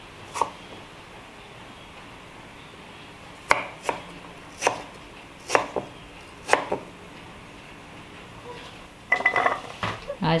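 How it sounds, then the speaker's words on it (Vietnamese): A knife chops watermelon rind into bite-sized pieces for braised pork belly, with about seven sharp, separate cuts against a board, then a quick cluster of clattering chops at the end. "bây giờ mình sẽ cắt dưa hấu thành những miếng vừa ăn."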